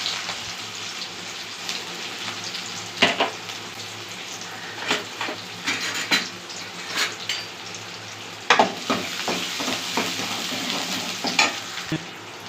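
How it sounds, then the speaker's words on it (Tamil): Garlic and onion sizzle steadily in hot oil while making a spicy Tamil fish curry, with scattered clinks and scrapes of a stirring spoon rising above the continuous frying hiss; no voices. "பூண்டு தட்டி வச்சுருக்கோம், பூண்டு போட்டுக்கலாம். கொஞ்சமாக வெங்காயம் போட்டுக்கலாம்."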